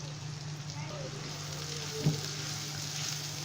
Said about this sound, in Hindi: इसके अंदर अब ये मटर डाल देंगे।